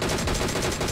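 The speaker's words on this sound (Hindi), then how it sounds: "अभी गोलियां मार रहा है" Rapid automatic gunfire in the mobile shooter game PUBG Mobile, a tight burst of evenly spaced loud shots filling the whole short moment.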